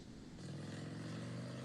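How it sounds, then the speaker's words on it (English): A loud motorcycle engine drones steadily close by, a continuous low rumble that fills the moment with no speech over it. "it's a motorcycle"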